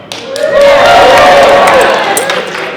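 Loud crowd cheering and shouting at a cosplay contest at Wild Wild West Con 2024, a dense roar with whoops and some clapping that swells and holds for a few seconds.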